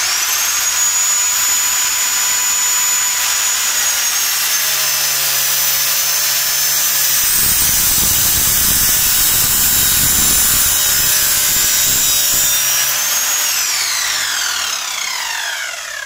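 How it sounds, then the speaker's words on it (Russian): A power saw cuts wood for a bench, its loud, close motor screaming continuously while the blade bites through the board with a rougher rasping stretch in the middle, then winds down at the end. "Пилим."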